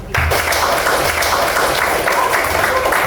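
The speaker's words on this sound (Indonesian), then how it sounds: "Tepuk tangan dulu." Classroom applause in an Indonesian lesson, students bursting into loud, steady clapping that starts abruptly and continues evenly throughout.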